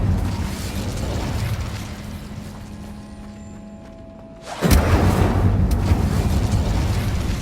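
A single heavy fiery burst from the Incendio spell in Hogwarts Legacy erupts loud and close partway through, giving way to a sustained roaring rumble after a quieter, droning stretch of game ambience, with no voices.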